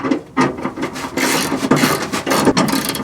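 Security screws being tightened on a MillerCAT catalytic converter shield under a Toyota RAV4, heard as close, rough rasping and ratcheting bursts that repeat unevenly, with no talk.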